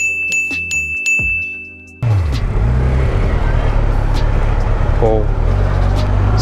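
A superbike running its original company-fitted stock exhaust gives a loud, steady engine roar with a rising rev partway through. The roar follows a stretch of tonal, music-like sound.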